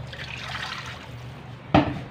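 Water is poured into a mixing bowl of hopya bread filling made with sugar, margarine, onion and oil, a steady trickle followed by a sudden louder splash near the end.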